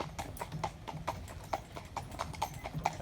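A harness horse trotting, with crisp, regular clip-clop hoofbeats close by in a steady two-beat rhythm and no talk over them.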